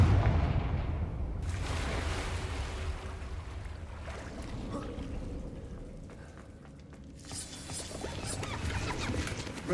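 A Confringo fire spell explodes in the Hogwarts Legacy video game: a loud, roaring blast followed by a long rumbling wash of debris and fire that fades, then swells again near the end.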